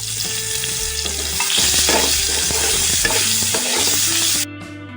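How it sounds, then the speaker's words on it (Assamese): Chopped onions sizzle loudly in a hot pan while being stirred, with a steady, close frying crackle that cuts off abruptly near the end. "এতিয়া মই দি লৈছো কাটি থোৱা পিয়াজখিনি এতিয়া মই অকমান দেৰি ভাজি ল'ম"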